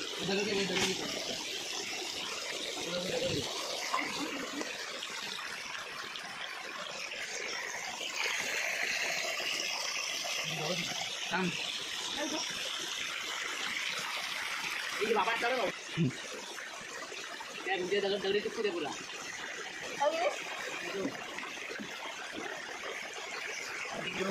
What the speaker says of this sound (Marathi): या नदीला पाणी आहे ना, चॉकलेट आहे मातीचं पूर्ण